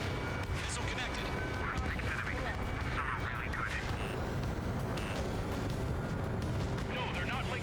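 A missile strikes its target and explodes in Ace Combat 7, a heavy sustained rumble and roar with jet noise, with radio voices talking over it throughout.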